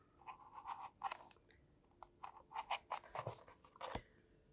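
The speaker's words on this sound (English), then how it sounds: "Don't apply too much pressure, but just carefully cut down" Quiet, close scratchy scraping of a scalpel blade drawn through stiff layered, glued paper in short uneven strokes, with no voices.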